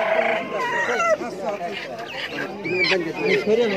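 At a busy village market, chickens cluck and a rooster crows, loud and close, while people talk over the calls throughout.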